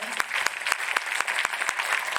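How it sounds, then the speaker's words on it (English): A crowd at a motivational talk breaks into steady applause, a dense wash of clapping with sharper individual claps cutting through, moderately loud and continuous for a couple of seconds. "Big round of applause for them."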